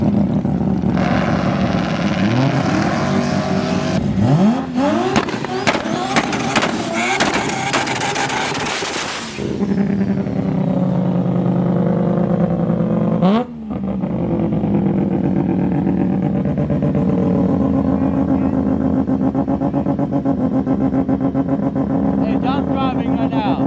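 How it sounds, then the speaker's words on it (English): Mitsubishi Evo race car on a qualifying pass at a drag racing event, its loud engine roaring and rising in pitch with rapid crackling bursts, then holding a steady drone as it pulls away, with people talking faintly nearby. "Looks like he's gonna be racing the Evo first."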